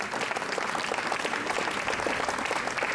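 An audience applauds at a lecture on Sardinia, a dense, steady wash of many hands clapping throughout, close and fairly loud with no one speaking over it.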